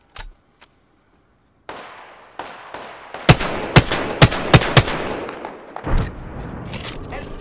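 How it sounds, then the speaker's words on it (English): Gunfire in an Apex Legends battle: a quick run of sharp, loud shots in close succession after a quiet start, followed by a few scattered impacts and clatter. "I am taking fire, friends."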